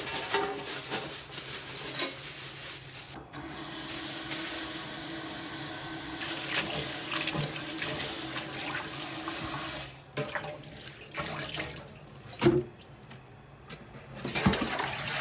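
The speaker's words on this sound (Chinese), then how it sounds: "那么洗点豆芽" Bean sprouts get rinsed under a running kitchen tap, a continuous close rush of water that briefly cuts out and returns with splashy handling, no speech.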